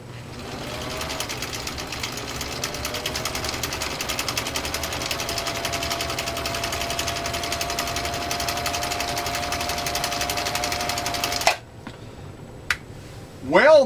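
A Husqvarna Viking Type 21 sewing machine stitches through three layers of genuine cowhide with a Schmetz needle, a steady fast mechanical whir and clatter running for about eleven seconds, then stopping abruptly, with brief handling noises after.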